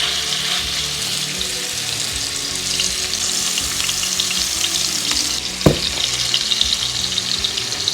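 A half-pound patty of Costco Wagyu ground beef fries in oil with a steady, close sizzle throughout, broken once by a brief clatter near the end.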